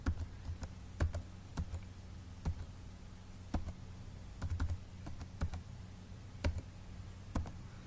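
Sparse keystrokes on a computer keyboard while entering an ID card number into an online application form, isolated sharp clicks with short bursts and gaps, fairly quiet, with a low steady room hum underneath.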